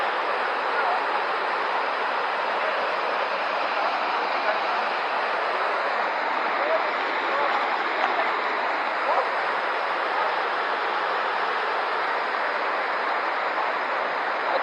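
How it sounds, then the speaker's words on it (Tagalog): Bunsuran waterfall rushes in a constant, dense roar of heavy falling water, close and unbroken throughout. "Kaso malakas talaga masyado tubig na ngayon"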